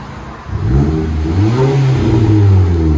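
A 2017 Nissan Juke Nismo Turbo with a Flowmaster Flow FX exhaust revs up loud and close in neutral, a deep throaty exhaust roar rising and holding at high revs.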